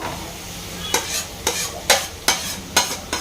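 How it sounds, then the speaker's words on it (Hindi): Potatoes stir and fry in mustard oil in a pan, a soft steady sizzle broken by about six scraping strokes of a spoon at a regular pace, close by and without speech. "राई के तेल में अच्छे से मैं इनको फ्राई करूँगी, इसका कच्चापन निकल जाए।"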